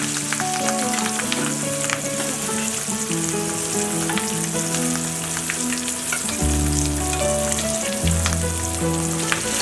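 Rui fish pieces coated in garlic-chili paste sizzle and crackle loudly in deep hot oil, a dense, continuous spattering close up with intermittent low tonal hum underneath.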